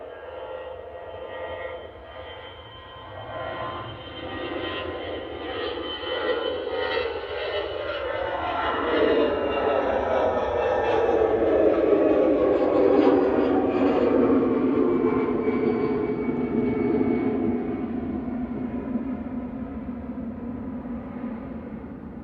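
An EasyJet jet airliner bound for Palma de Mallorca roars past at Manchester Airport, its engine noise swelling from a distant rumble to a loud whining peak with a falling pitch sweep, then easing away.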